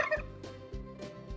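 Farmyard birds, gobbling like turkeys, call behind the speaker on a farm, with a few quick rattling calls in a row, moderately close and with no talking.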